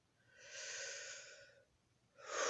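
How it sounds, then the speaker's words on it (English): One long, slow breath in from a person with asthma, close and airy, followed by the start of a second forceful breath at the end; otherwise quiet. "I need to take a breath."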